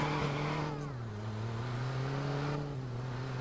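A stolen car's engine in Watch Dogs holds a steady, moderately loud hum, dipping slightly in pitch and rising again as it idles and revs lightly, with no talk over it.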